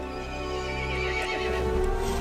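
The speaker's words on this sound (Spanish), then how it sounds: "El caballo se enfureció y llamó a las otras criaturas." A horse neighs loudly and steadily over a dense layered background, the whinny held through the whole short stretch with no talk.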